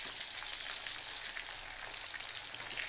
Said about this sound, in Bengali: তারপরে মাংসের আলুটা এখানে ভেজে নেবো